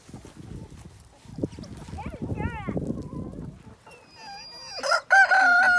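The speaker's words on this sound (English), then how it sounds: "Come on, let's go feed the chickens." Backyard homestead chickens cluck beneath a person's voice and shuffling at first, then a rooster crows loudly and close near the end over continued hen chatter.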